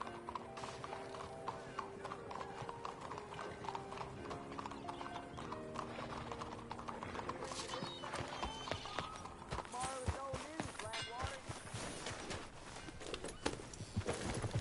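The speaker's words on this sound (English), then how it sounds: "Get on your horse, John." Steady clip-clop of horse hooves walking, with a horse neighing partway through, set against a game soundtrack with music, in the video game Red Dead Redemption 2.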